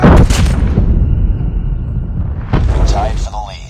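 A flashbang grenade goes off in a multiplayer shooter game with a loud, close burst, followed by a muffled, ringing stretch before the sound returns. Voices can be heard over the game.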